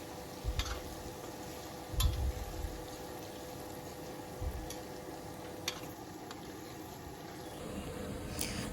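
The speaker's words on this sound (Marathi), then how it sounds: "इथे मी दोन बारीक चिरून घेतलेले टॅमॅटो आहेत ते टाकून घेऊया आणि टॅमॅटो जोपर्यंत मऊ होत नाही तोपर्यंत टॅमॅटो तेलामध्ये परतून द्यायचा आहे" Finely chopped tomatoes sauté in hot oil in a pan, giving a soft, quiet sizzle broken by a few low thumps and scrapes from stirring.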